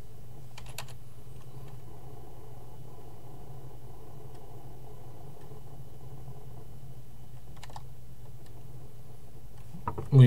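Light typing on a computer keyboard during a modded Minecraft-style game session, with short bursts of key clicks near the start, around 8 seconds and at the very end over a faint steady hum.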